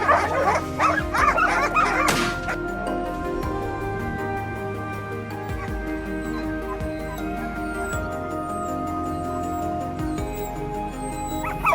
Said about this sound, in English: heading toward the loud barking of the hounds